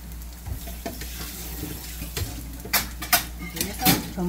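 Garlic piled into a pan of eggplant dish sizzles faintly under clinking utensil taps and scrapes, with sharper metallic knocks toward the end.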